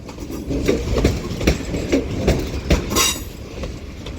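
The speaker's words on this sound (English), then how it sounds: "195-105 now departs Manchester Piccadilly with the 1448 Northern service to Sheffield starting here." A Northern class 195 diesel unit departs Manchester Piccadilly, with a low engine hum and a regular clickety-clack of wheels over rail joints plus a brief squeal, heard close and alone.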